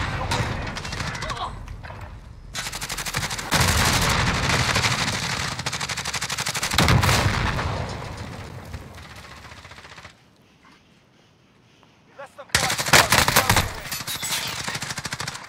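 Gunfire in the Warzone video game on a military base, with long, dense bursts of rapid automatic fire that are loud and close, then a brief quiet gap before another heavy volley.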